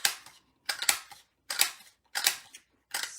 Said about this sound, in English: cut out with the 1-inch circle punch